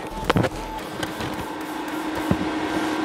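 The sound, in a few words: MIG inverter welder welding a steel plate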